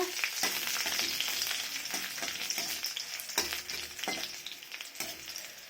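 Dried red chillies fry in hot oil in a heated wok for mashed mustard greens, a bright, continuous sizzle with crackles and occasional stirring scrapes, close and moderately soft.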